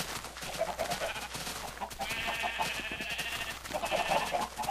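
Sheep bleating in the video game Minecraft, with a few bleats rising over a steady mix of game sounds, moderately loud and close.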